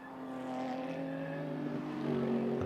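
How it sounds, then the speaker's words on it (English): Radical race car engine at Oulton Park during a GT Cup endurance race, a light, high-pitched steady drone with a slowly rising and shifting pitch, held loud and continuous without pause. "far lighter noise from the Radical engine"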